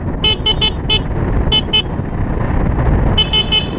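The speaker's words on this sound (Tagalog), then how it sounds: "kaya kailangan natin bumusina" Short bursts of a vehicle horn honk repeatedly in quick groups, echoing in a mountain road tunnel over a loud rumbling engine and road noise.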